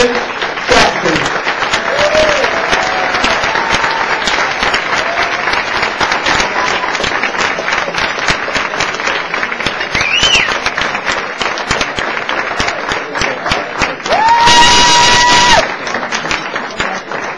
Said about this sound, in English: Let's bring them up with a warm round of applause.